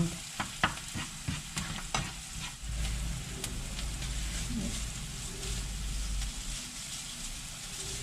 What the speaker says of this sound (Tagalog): Antayin lang natin maging translucent tong onion